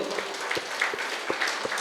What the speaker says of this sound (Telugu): గట్టిగా గట్టిగా చప్పట్లు కొట్టుకుంటూ